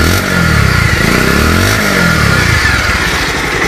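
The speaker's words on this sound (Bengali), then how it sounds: "গাড়ি স্টার্ট হয়েছে, দেখেন ইঞ্জিন সাউন্ডটা। আর এই পাশ থেকে সাইলেন্সারের সাউন্ড" A 2021 Bajaj Pulsar 150cc motorcycle runs close by. The engine and silencer give a loud, steady, throbbing drone with a slight swell in revs partway through and no voices.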